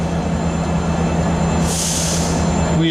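The Agartala–Sabroom DEMU train runs loud and close, a steady rumbling roar of wheels and carriages on rails with a brief high squeal of wheels partway through, no voices.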